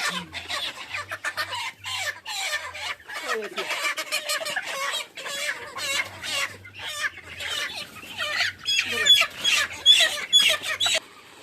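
Sonali chickens at a poultry market cluck and squawk in dense, repeated bursts throughout, close and fairly loud, with a voice mixed in intermittently.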